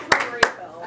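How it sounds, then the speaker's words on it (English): Two sharp claps sound close together from an audience at a small business community meeting, brief and distinct before fading out. "Good clap for Vince."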